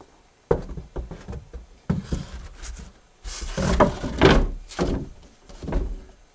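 A new insulated attic door panel is fitted into its ceiling opening, producing a series of close wooden knocks, bumps and scrapes as it is pushed and settled into place, irregular and fairly loud.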